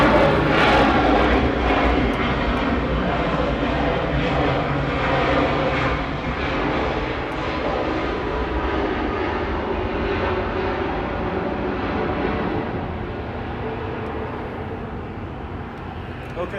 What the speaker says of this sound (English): we have an A319 or A320. Looks like an A320